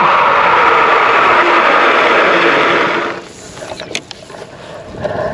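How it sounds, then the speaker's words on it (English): A Rattan Sequoia e-bike braking hard from 30 mph gives a loud, steady rushing drone of wind and tire roar that cuts off abruptly, then trails into scattered faint clicks and rattles as the bike comes to a stop. "we're going to try a 30-mile-an-hour brake check"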